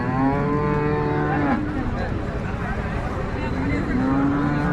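A cow moos loudly nearby, a long low call with harmonic tone, while people talk in the background.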